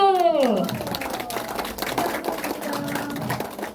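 Applause breaks out at a neighbourhood residents' committee meeting in Gwangsan-gu, Gwangju, as gifts are presented; a steady wash of clapping fills the room, with a brief tonal voice sliding down at the start.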